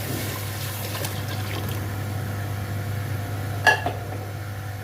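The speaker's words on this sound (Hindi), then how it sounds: "अब मैं इसमें डालूँगी तकरीबन 2 जग पानी" Hot water is poured from a jug into a pot of cooking goat trotter curry. A steady liquid rush runs over a low background hum, with one brief clink near the end.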